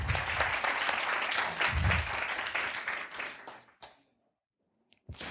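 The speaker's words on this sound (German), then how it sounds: "Mal einen Applaus für den Mann von der Technik." A conference audience gives a round of applause for the technician, dense and loud for several seconds before fading abruptly into near silence, then a brief return of sound at the end.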